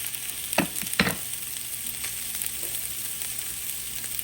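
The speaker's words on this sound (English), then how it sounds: "I've got my onion in here and the garlic, and I'm just gonna sear it a little bit" Onion and garlic sear in a soup pot for tomato basil soup, a continuous close sizzle broken by a couple of quick stirring scrapes near the start.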